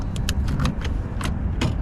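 A flat wallet tool is worked into a locked car door to open it, giving a run of small sharp metallic clicks and scrapes over a steady low background rumble.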